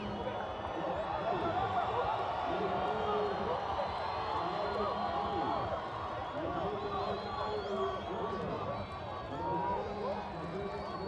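A dense, steady murmur of a stadium crowd in Guatemala before an under-17 football match between Panama and Guatemala, a distant, continuous roar with a voice talking over it.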